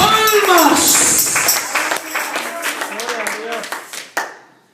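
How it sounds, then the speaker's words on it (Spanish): A church congregation clapping as an offering of praise, loud clapping mixed with voices and a ringing musical tone, fading toward the end after one last sharp clap. "que se oiga una ofrenda de palmas"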